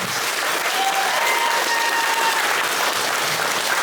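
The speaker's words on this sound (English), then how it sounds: "Maybe a round of applause." Wedding guests applaud the couple, a broad, sustained burst of clapping from a sizeable crowd, steady and fairly close, with a few faint high tones drifting over it.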